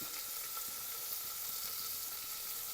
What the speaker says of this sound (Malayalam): കറിവേപ്പിലയും സവോള അരിഞ്ഞതും ചെറിയ ഉള്ളിയും ഒക്കെ അങ്ങോട്ട് ഇട്ട് കൊടുക്കാം നല്ലതുപോലെ ഒന്ന് വഴണ്ട് വരട്ടെ